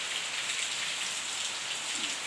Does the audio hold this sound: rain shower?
yes